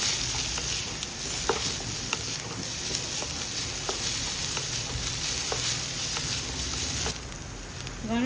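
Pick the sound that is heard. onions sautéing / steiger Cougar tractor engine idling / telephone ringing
onions sautéing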